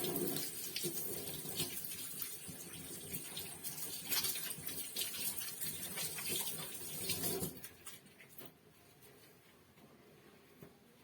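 Tap water running steadily into a sink while hands are washed, a close, continuous splashing rush that cuts off near the end, leaving quieter room sound.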